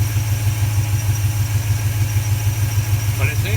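A car engine fitted with a 4-barrel carburetor on a 2-barrel intake idles steadily nearby, a loud low throbbing pulse with an even rhythm throughout.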